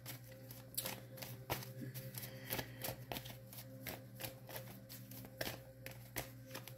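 Tarot cards are shuffled repeatedly in quick riffles and taps, soft and close, with a faint steady hum underneath.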